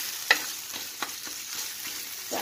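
Masala of turmeric and salt frying in a pan for fish Konkani masala, a steady close sizzle with a few soft stirring scrapes and one sharper clink near the start.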